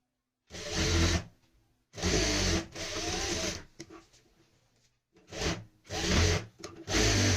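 A sewing machine runs in several separate bursts while stitching a tulip salwar, each run a loud, steady mechanical whir with short pauses between, alone without talk.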